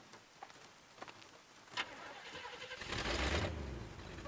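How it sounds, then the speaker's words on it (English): A car engine in the Bayonetta video game idles quietly under faint background sounds, then swells into a louder, fuller rev over the last second or so. "Engine still purrs nicely."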